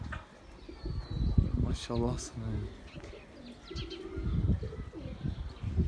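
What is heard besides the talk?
Someone's pigeons cooing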